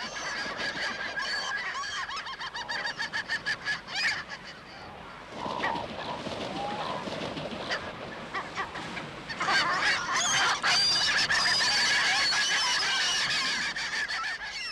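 A flock of young seabirds calls nonstop at a gathering place near their Falklands nesting colony, a dense, loud chorus of overlapping honking cries with no talk.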